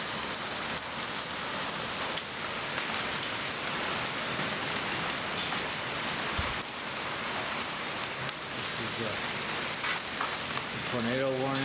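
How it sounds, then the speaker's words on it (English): Hail and heavy rain pelt a hard surface in a dense, continuous clatter during a severe storm with a tornado warning in St. Louis, with a few louder impacts and a brief voice near the end. "we're already starting to get hail here"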